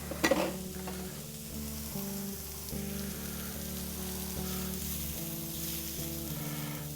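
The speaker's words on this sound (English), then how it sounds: "Make us a little well for our fresh eggs." Fresh eggs fry with garlic in a pan for plum-teriyaki beef fried rice, giving a steady close sizzle with scraping and stirring clatter and no talking.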